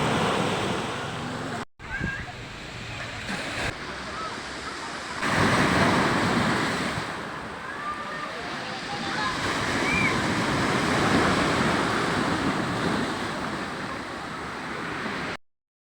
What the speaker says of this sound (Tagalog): Napakasarap pong pakinggan ang bagsak ng mga alon dito.